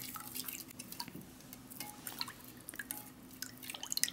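Unsweetened lemon drink mix being stirred into water from a Lithuanian combat ration, with a spoon quietly clinking and scraping against the container in a steady run of small taps.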